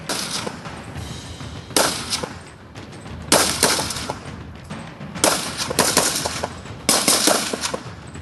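Commandos give each other cover fire during an army assault drill: repeated bursts of automatic gunfire crack out loud and close, in several clustered volleys separated by brief lulls.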